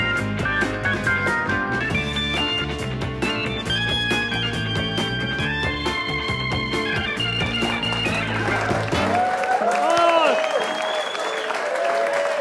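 A studio audience at a pub politics show claps and cheers steadily over loud theme music, and the clapping keeps going as the music fades and a voice starts to speak.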